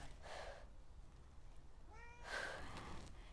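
Two soft cat meows, a short one followed a moment later by a longer, rising call, in an otherwise quiet room.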